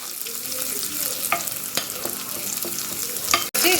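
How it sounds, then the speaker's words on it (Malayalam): Onion and cashews frying in ghee with a spoon stirring through them, a steady sizzle broken by scraping clinks against the pan, then a sharp knock near the end; no talking. "ഇതിലോട്ട് ഒരു അല്പം നെയ്യ് ഒഴിച്ച് ഒന്ന് ചെറുതായിട്ടൊന്ന് ഇളക്കി എടുക്കാം"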